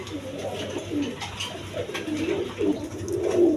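Pigeons in a breeder's loft, including a pair of Mosoldom birds with a male and a female sitting on two eggs, coo in low, rolling phrases that repeat steadily, close by and without talk.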